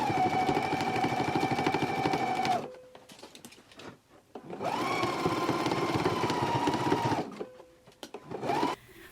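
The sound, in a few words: sewing machine stitching a skirt hem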